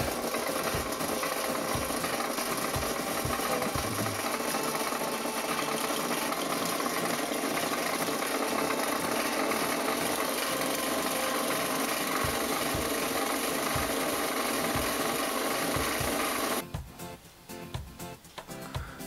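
A power drill drills holes, running steadily and loudly for a long stretch, its dense grinding whir cutting off abruptly near the end.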